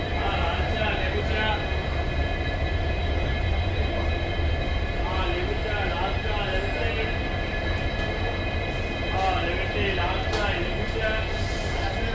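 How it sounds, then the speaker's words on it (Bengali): At Sealdah station, train rumble and station bustle fill a busy platform around the Teesta Torsa Express, a continuous loud wash with people talking throughout. "শিয়ালদা স্টেশন থেকে তিস্তা তোরসা এক্সপ্রেস ধরে"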